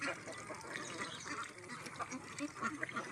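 Free-ranging ducks in a harvested rice field, quacking in quiet, overlapping bursts from a flock at some distance, with faint outdoor background noise.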